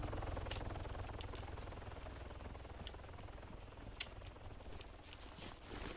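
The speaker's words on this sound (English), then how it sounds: "It's a helicopter." A helicopter in a PVP shooter game drones faintly with a rapid, fluttering buzz at a distance, a steady low-level rotor sound.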